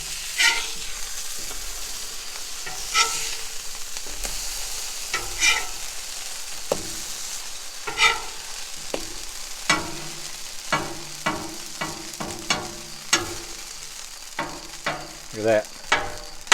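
Sausage and egg fry on a Blackstone griddle with a steady, close sizzle, broken by repeated sharp spatula scrapes and taps that come faster toward the end.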